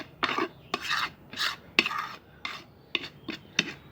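Tea leaves and fertilizer ingredients being mixed in a container by hand or with a utensil, giving a run of about nine crisp, rasping scrapes and stirs in an uneven rhythm, close and fairly quiet.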